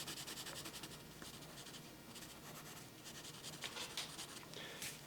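Pencil shades on paper while drawing an anime-style eye, a close, continuous scratchy rubbing made of rapid back-and-forth strokes, quiet and steady with no voices.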